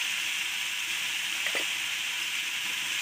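Spices frying in a pan for a dish of taro stolons and small shrimp, a steady close sizzle throughout with a brief stirring scrape near the middle.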